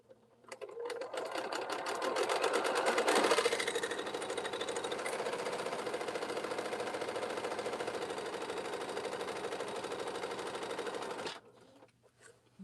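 A sewing machine runs steadily for about eleven seconds, its needle making a rhythmic popping knock within the close, loud mechanical hum before it stops abruptly.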